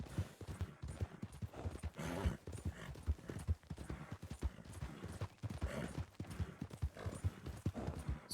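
Horse hooves clip-clop in a rhythmic, steady gallop through the Red Dead Redemption 2 video game world, moderately close with a faint whinny and occasional distant gunshots.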